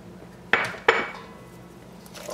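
Two sharp metallic clanks of a utensil against a pan while carrot and vegetables are stirred, close and fairly loud, followed by quieter scraping and faint kitchen background.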